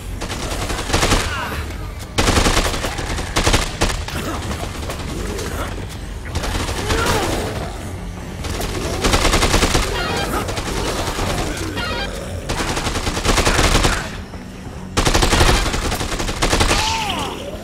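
Sustained machine gun fire in a zombie video game, loud and close, coming in long rapid bursts separated by brief pauses across the whole stretch.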